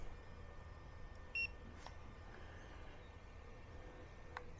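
Autel Nano drone remote controller giving a short disconnect beep, a single brief high electronic tone over steady low background hum.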